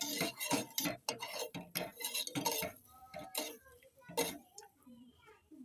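A spoon clinks and scrapes against a pot while sugar syrup is stirred, the taps irregular and close, with a voice speaking over part of it.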